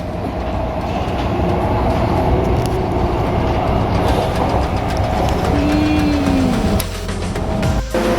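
A Hong Kong Disneyland line train rumbles along with steady rolling clatter and rattling carriage noise throughout, a brief squeal rising near the end.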